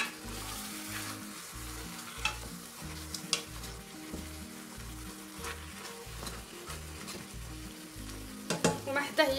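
Meat searing in a pot for Moroccan mrouzia, a continuous low sizzle and crackle with occasional spatula clicks, growing busier and louder at the very end.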